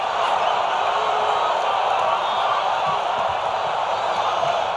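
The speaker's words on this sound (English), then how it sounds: "Crowd is still oohing over that one." A dense arena crowd at the 1991 Duke vs Kansas NCAA championship basketball game keeps up a steady, loud, sustained roar and murmur of oohs after a dunk, with no break across the span.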